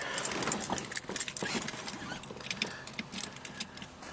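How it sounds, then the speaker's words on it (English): Keys jangle and scrape close up as they go into the ignition of a 1970 Cadillac Eldorado, a busy stretch of metallic rattling and clicking heard alone without speech. "Keys are in the ignition."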